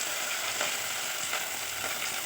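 Chopped ginger and garlic sautéing in a hot pan, an even, close sizzle with faint stirring scrapes, steady throughout and free of talk.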